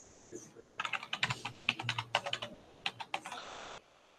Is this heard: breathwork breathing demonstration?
no